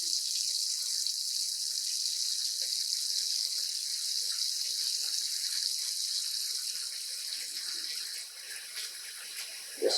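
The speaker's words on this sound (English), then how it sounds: "So I'm going to add water again." Tap water pours steadily into a container while yarn is being dyed, a constant hissing rush that holds throughout and eases slightly near the end, with no voices.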